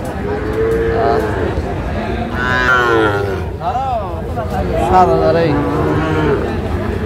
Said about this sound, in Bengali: শাহিওয়াল জাতের ষাঁড় বাচ্চা